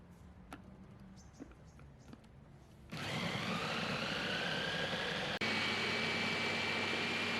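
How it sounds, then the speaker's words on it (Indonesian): An electric blender purees red tomatoes with a little boiled water; after a few quiet seconds with light clicks, the motor kicks in with a loud, steady whir that continues to the end, briefly dipping once partway through. "Selanjutnya, kita akan memblender tomat merah."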